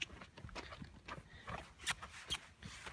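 Pony hooves walking on hard frozen ground, soft irregular clip-clop footfalls heard close, with faint rustling between steps.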